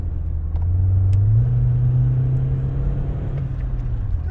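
A boosted 1.8 litre four-cylinder BMW is driven at full throttle, its engine droning low and steady inside the car as the pitch rises slightly and then eases off, no talk.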